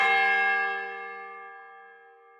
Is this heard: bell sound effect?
yes